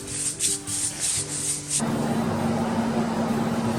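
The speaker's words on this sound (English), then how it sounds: "That racket that you hear on the camera is a couple of heaters that are running down below the table here" Couple of space heaters running beneath a table in a workshop, a steady broadband whir with a constant hum; the first stretch carries softer rhythmic rubbing, then the noise fills in loudly and evenly.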